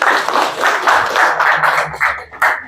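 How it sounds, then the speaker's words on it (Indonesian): A classroom group claps together in quick, even bursts, fairly loud and close, sustained for a few seconds. "Ya, tepuk tangan untuk kita semua."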